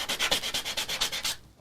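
Sandpaper in a fine grit rubs across a coaster in about ten quick, even back-and-forth strokes, close and steady, before stopping abruptly near the end.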